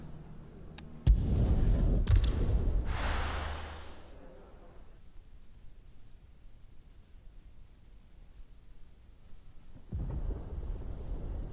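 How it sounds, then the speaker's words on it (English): Thunder in Final Fantasy XVI, a loud rumbling crack that rolls and fades over several seconds, then a fresh low rumble rising near the end, with no talking. "Sounds like thunder."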